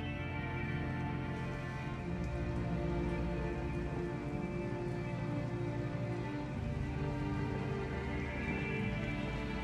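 Heavy, steady rain pours down without a break in the game Detroit: Become Human, a dense, even hiss of falling water with no voices.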